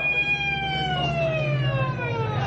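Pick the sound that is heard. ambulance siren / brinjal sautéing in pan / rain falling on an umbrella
ambulance siren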